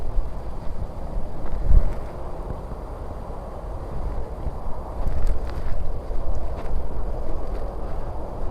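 Wind gusts through trees on a countryside foraging walk among hazelnut and damson trees, a broad steady rushing that swells and eases, with some buffeting against the microphone and no voices.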